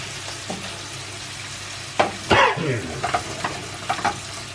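Curry paste frying out in a pan: a steady low sizzle with a few sharp stirring scrapes and spatters standing out, close by and alone without talk.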